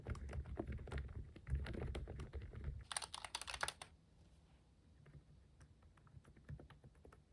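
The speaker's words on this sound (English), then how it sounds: "it makes a sound that is so creamy and it feels like poking into dough as you type" Soft, muted keystrokes on an Einperr silent wireless keyboard, a quick patter of typing that swells into a brief, denser burst midway before thinning out to light, scattered taps.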